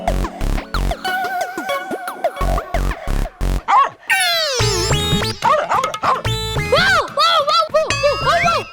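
A child imitates a dog barking with a quick series of loud, sharp yips and bow-wows, alternating with excited, whiny voiced sounds and some nearby talk.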